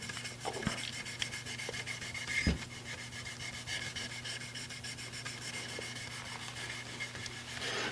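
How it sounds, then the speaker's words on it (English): Steady, vigorous hand rubbing of finish into a wooden gunstock, a continuous soft rasping friction close to the microphone with a couple of brief knocks, no talking. "And I like to rub it fairly vigorously."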